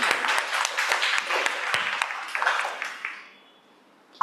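An audience applauds a Toastmasters speaker at a club meeting, a dense burst of many hands clapping that carries on steadily, then thins and fades out near the end.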